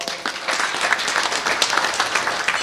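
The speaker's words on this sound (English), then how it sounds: "Give him a wonderful round of applause." Audience at a Chaitra Navratri Durga Ashtami gathering applauds a percussionist, a moderately loud, steady wash of many hands clapping that rises quickly and holds throughout.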